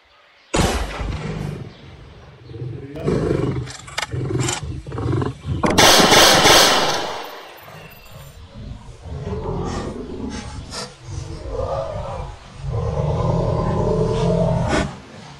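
A lion attacking hunters lets out a series of deep, rasping roars and growls, loud and close, with bursts of harsh noise and scuffling between them.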